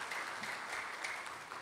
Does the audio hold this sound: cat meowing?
no